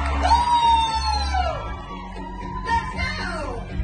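A concert crowd roars, shouting and whooping loudly together for several seconds, with one long rising voice standing out over the sustained cheering.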